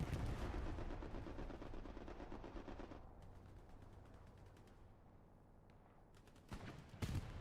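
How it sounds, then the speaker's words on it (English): Artillery shells in Hell Let Loose pound in as a heavy, continuous rumble of distant blasts and gunfire, easing in the middle before renewed loud impacts near the end. "artillery coming straight over the top of it"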